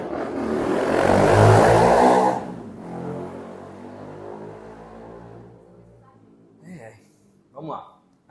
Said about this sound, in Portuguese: Vou passar essa moto aí.